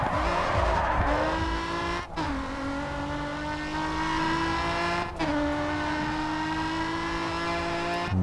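A Nissan 370Z in the racing video game GRID 2 drifts with a steady, loud engine drone and sustained tire squeal, punctuated by brief gear-shift dips roughly every three seconds.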